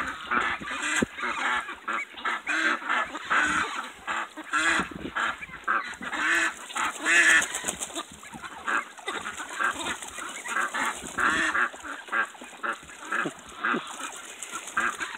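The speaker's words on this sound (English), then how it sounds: "I got ducks quacking everywhere around here." Ducks and other waterfowl call throughout, dense overlapping quacks and honks from several birds close by around the water, with no speech over them.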